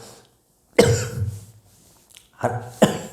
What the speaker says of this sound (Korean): 갑자기 약하다 하니까 기침이 나오네요